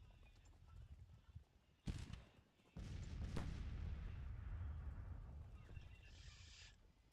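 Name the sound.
artillery firing back in a Civil War video game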